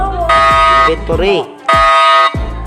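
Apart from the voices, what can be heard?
bank alarm in Roblox Brookhaven video game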